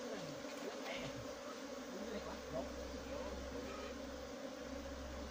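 Honey bees buzz steadily during a rooftop harvest of wild honeycomb, a dense continuous droning swarm close by that stays level throughout with faint background activity.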